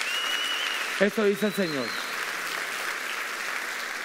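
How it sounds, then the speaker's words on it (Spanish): A church congregation applauding during a sermon, a broad, even wash of clapping that continues under a voice speaking briefly. "Dale un aplauso al Señor."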